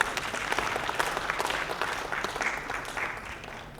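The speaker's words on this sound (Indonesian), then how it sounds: "Sekali lagi tepukan gemuruh untuk beliau." Applause after a patriotic poetry recitation at a declamation event, a crowd clapping steadily and warmly before gradually thinning out.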